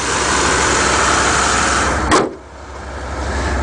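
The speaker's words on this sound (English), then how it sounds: "Motor sounds nice and quiet." Chevy Caprice station wagon engine idling steadily and fairly quietly, a smooth continuous hum that dips briefly after a short bump near the end.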